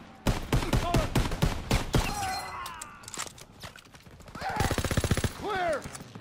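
Gunfire and shattering in Call of Duty WWII, rapid volleys of rifle and machine-gun shots crackling loud and close, with shouted game voices breaking through in between.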